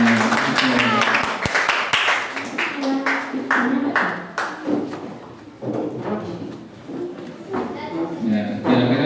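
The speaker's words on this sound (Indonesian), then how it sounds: "Oke, cukup tepuk tangan untuk semuanya." Children clapping their hands together in a classroom, sharp rhythmic claps in quick groups with brief pauses, mixed with voices talking.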